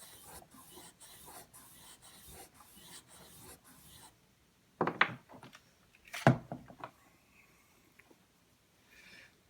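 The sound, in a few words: knife edge run across a leather strop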